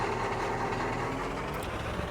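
A 1990 Ford F350 farm truck with a 7.3 engine idles in Farming Simulator 22, a steady, even low rumble held for a couple of seconds, no talk.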